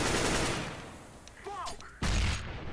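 A grenade blast in Counter-Strike: Global Offensive on the Cobblestone map, a sudden loud broadband explosion near the end of a stretch of gunfire-like game noise, with brief voice chatter in the middle.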